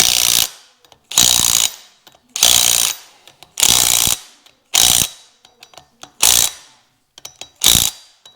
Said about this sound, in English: All right, torque wrench and torque those up.